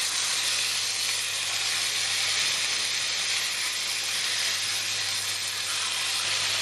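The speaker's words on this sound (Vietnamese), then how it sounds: "Cái này gọi là chiên áp chảo" Pork sizzles as it pan-fries in hot oil, a dense, steady crackle and hiss running the whole time with no break and no voices, close and fairly loud.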